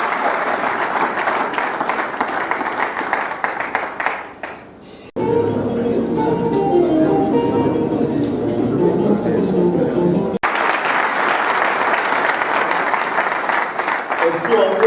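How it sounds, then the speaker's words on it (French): Audience applause and cheering at a youth conference, loud sustained clapping with crowd noise, broken midway by a few seconds of a different, muffled room sound before the clapping resumes. "S'il vous plaît, est-ce qu'on peut acclamer?"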